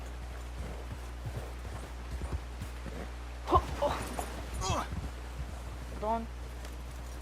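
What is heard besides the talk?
horse hooves while riding, from video game Red Dead Redemption 2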